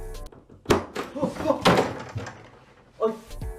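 A room door is opened, giving a few dull thunks and knocks amid rustling, with a quieter bump near the end and some voices.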